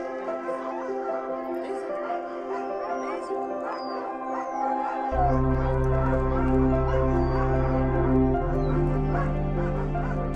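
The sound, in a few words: sled dogs barking while being harnessed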